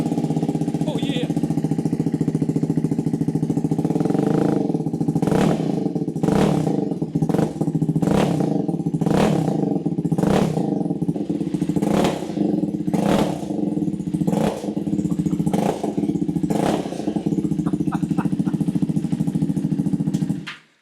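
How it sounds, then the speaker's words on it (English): A 2025 KTM 390 Adventure R single-cylinder motorcycle idles steadily up close, then takes a long series of sharp throttle blips that rise and fall in quick succession, the engine loud and alone throughout. "Now it sounds like a bike, actually."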